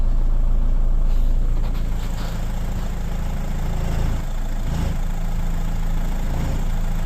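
A 2006 VW Jetta with a six-speed DSG gearbox, fresh transmission fluid, runs steadily as it is shifted through the gears, giving a continuous low engine rumble with slight changes in tone and no talk.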